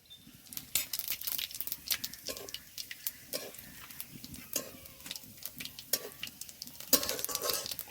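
Whole cumin seeds hit hot oil already holding whole dried chillies and torn cardamom for a village-style chicken curry, giving a crackling sizzle with irregular sharp pops and bursts at moderate loudness throughout.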